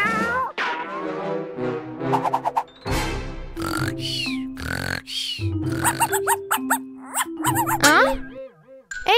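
Repeated cat-like meows and squeals mixed with other animal noises, loud and close, in quick irregular bursts.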